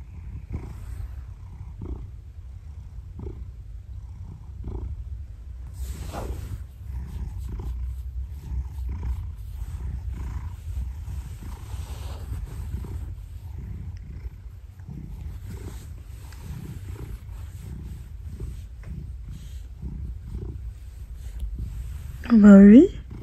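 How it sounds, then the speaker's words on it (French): A house cat purring loudly right against the microphone, a deep, continuous rumbling pulse that runs throughout, with a short burst of a voice near the end. "Ça, c'est du gros ronron."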